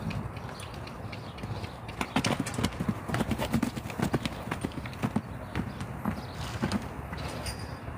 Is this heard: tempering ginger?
no